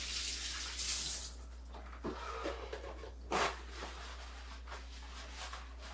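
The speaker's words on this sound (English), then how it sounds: "Let me get my hands washed." Hands being washed under a running kitchen tap before cooking chicken fried rice, a steady hiss of water with brief louder splashes as the hands move through the stream, close by and with no talking.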